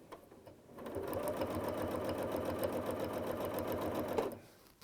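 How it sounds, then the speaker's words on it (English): A domestic sewing machine stitches in the ditch on a quilt, running in a steady rapid whirring burst of about three seconds, close and clear, starting and stopping abruptly. "now I'm going to do it again, stitch in the ditch till I'm 1 inch away"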